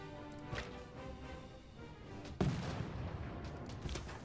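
Battleships fire on a unit in Civilization VI: a low naval cannon boom hits, then a sharper louder blast follows midway, with rumbling decay and a steady musical background underneath.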